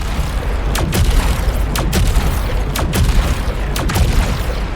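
Arm cannon fire in the video game Saros, aimed at a wall: roughly one loud, punchy blast per second, about five shots over a dense constant background rumble.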